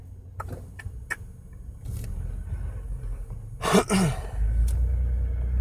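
A low, steady engine rumble runs throughout, with a brief louder passing swell near the end and faint scattered traffic noise.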